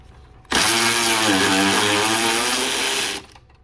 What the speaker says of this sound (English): Alright, so for that we're gonna use my ratchet.